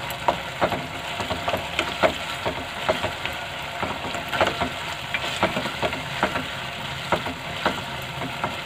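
Vegetables are lightly stir-fried in a pan, a soft steady sizzle punctuated by regular rhythmic scrapes and taps of a spatula against the pan, close and moderately quiet.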